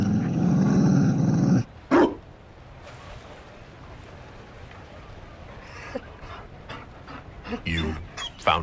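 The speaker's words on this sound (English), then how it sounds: "You found a dog?" A Mabari war dog growls and barks in a fantasy role-playing game, with a rough growl at the start followed by short sharp barks and yips later, mixed with game voices talking.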